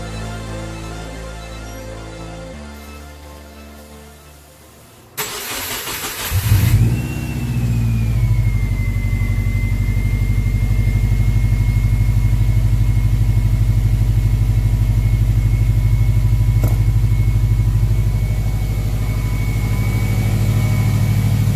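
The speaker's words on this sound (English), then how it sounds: "Back in and start the car." A Subaru Forester engine with a freshly rebuilt VF48 turbo cranks over and catches, then settles into a steady, loud, close idle with a rising whine, holding a constant drone to the end.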